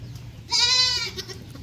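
A goat bleats once, a clear, fairly close wavering cry lasting about half a second, heard against a low background hum at a goat house.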